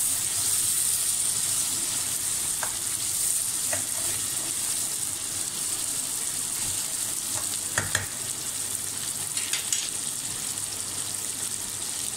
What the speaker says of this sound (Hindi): गोश्त को अच्छी तरह भून लेंगे प्याज में, ताकि गोश्त का पानी खुश्क हो जाए।